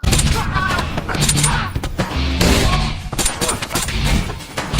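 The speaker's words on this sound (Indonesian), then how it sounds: "Dan terjadilah adu tembak-menembak" A film gunfight: dense, loud bursts of rapid gunfire with thuds and impacts packed throughout, mixed with movie sound effects.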